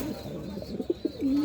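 Paired pigeons, including a female, coo nearby in a few short throaty pulses followed by a longer drawn coo, over a low murmur of background noise.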